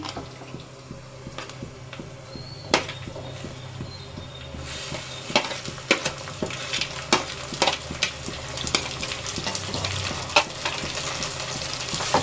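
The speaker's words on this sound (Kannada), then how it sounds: "ಟೊಮೊಟೊ ಹಾಕಿ ಚೆನ್ನಾಗಿ ಫ್ರೈ ಮಾಡ್ಕೋಬೇಕು." Tomatoes frying in a pan for chicken biryani, a steady close sizzle broken by repeated scraping taps of a stirring spoon, with no talk.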